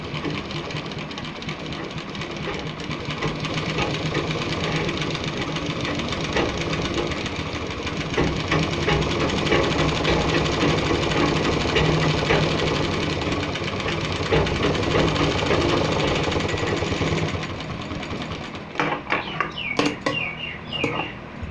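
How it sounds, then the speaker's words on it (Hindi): A sewing machine stitches a folded hem on a men's kurta in a steady, loud, continuous whir that runs for most of the stretch, then stops and leaves a few scattered clicks at the end. "यहाँ से एक पैर की सिलाई इसके ऊपर से लगाते जाएंगे।"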